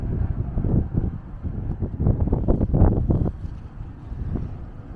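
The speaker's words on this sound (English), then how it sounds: "It's actually windier here than we've encountered all weekend." Gusty wind buffets the microphone at a concrete dam near Kalispell, Montana, a heavy low rumbling roar that surges and eases across the clip with no other sound standing out.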